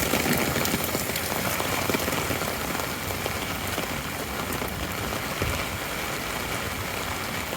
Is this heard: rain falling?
yes